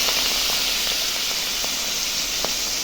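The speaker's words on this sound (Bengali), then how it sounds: "তেলটা গরম হয়ে গেছে, মাছগুলো এখন ভেজে নিচ্ছি।" Prawns frying lightly in hot oil give a steady, loud, close hiss and sizzle with faint crackles scattered through, and no voices.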